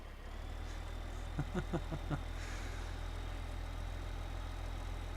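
A small tractor hauling a big trailer in the Farming Simulator 15 video game gives a steady, low engine drone throughout, with a short burst of quick clicks early on.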